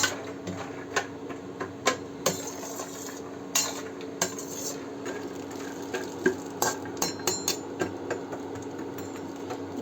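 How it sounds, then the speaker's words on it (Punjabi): Almonds frying in ghee for Punjabi besan panjeeri, a steady close crackle and sizzle with clinks of a metal spoon stirring against the pan at irregular intervals. "ਆਪਾਂ ਹੁਣ ਬਦਾਮ ਵਿੱਚ ਪਾ ਦੇ ਘਿਓ ਦੇ"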